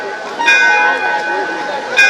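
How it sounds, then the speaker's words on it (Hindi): A bell rings out in a few bright, metallic strikes during a Hindu devotional Bhagavat Katha recital, clear and fairly loud against a steady background of the hall's ambience. "घंटी बजने लगी।"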